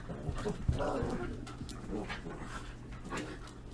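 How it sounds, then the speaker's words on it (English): Dogs whimper and give a few short barks and pants indoors, fairly close, with a low steady hum underneath and no speech over them. "Dogs, quiet."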